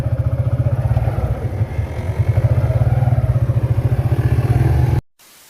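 A Barako motorcycle engine idles steadily and loudly up close, its low rapid chugging pulse continuous for about five seconds before cutting off abruptly.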